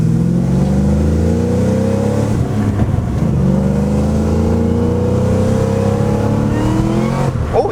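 A 700 hp Cadillac CTS-V wagon pulling away in first gear, its loud engine rising in pitch through steady climbing revs, dipping briefly at a shift point before climbing again, heard from inside with no talking.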